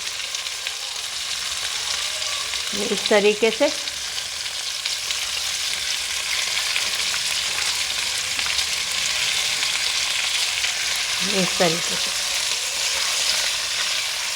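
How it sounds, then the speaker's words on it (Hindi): Fish pieces sizzling steadily in a pan with ginger, garlic and browned onion, a loud continuous frying hiss with occasional stirring, while someone talks briefly over it. "इसको अदरक लहसुन और ब्राउन प्याज में हम सौते कर लेंगे सारे टुकड़े"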